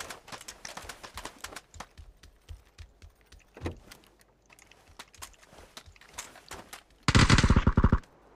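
Video-game gunfire from an M4 rifle cracks in scattered single shots and short bursts, then ends in a loud, sustained automatic burst near the close. Nobody speaks.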